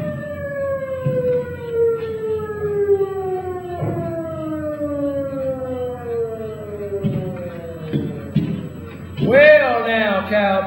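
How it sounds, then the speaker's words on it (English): A police car siren wails in long, sweeping tones that slowly fall in pitch over a low rumble, loud and steady. A sharper whooping burst comes at the end. "I heard the siren, and I saw that blue light"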